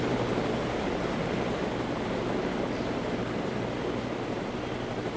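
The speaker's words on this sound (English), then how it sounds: "There's like five helicopters on this one." Helicopters flying overhead one after another, a steady, loud, broadband rotor and engine roar with a constant whine that holds without break, no voices over it.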